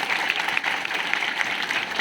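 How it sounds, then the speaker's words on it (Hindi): Students in a classroom clap together in a brief, fairly quiet burst of steady applause. "तालियां इसके लिए।"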